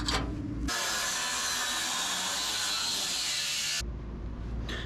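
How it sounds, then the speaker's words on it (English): Trimming a part off a Nissan 240SX, a steady broadband cutting or grinding noise that runs for about three seconds, close and loud, with quieter workshop sound before and after. "take a quick measurement, and then trim it off right here."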